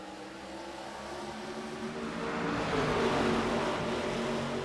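Field of iRacing stock cars accelerating to green on a restart at Charlotte, a dense steady engine roar swelling gradually louder with no voices.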